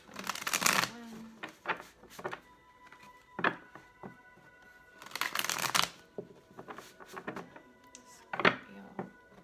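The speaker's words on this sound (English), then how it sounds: "This will be our last shuffle." Bursts of tarot card shuffling come in several quick riffles separated by pauses, with softer taps and handling noises between them, close and fairly loud.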